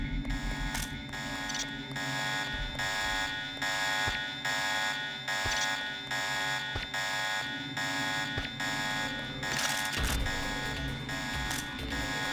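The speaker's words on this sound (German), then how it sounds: "Ich weiß nicht, was der Alarm jetzt groß gemacht hat." Alarm blaring in the game Deus Ex, a loud, continuous electronic buzzer pulsing in a steady rhythm with scattered thuds and clatter beneath it, no speech.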